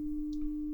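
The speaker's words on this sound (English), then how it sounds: "should be the sine wave." A steady sine wave test tone plays through a Bluetooth wall plate, one pure unbroken pitch holding throughout with a faint chirp in the background.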